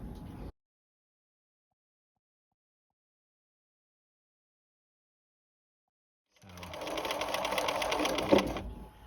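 A sewing machine stitching a collar starts up after a long silence, running in a steady, moderately loud mechanical whir for the last few seconds with no talk.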